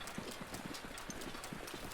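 Horse hooves clip-clopping in the video game Zelda: Breath of the Wild, a steady quick rhythm of soft hoof strikes at moderate distance over faint ambience.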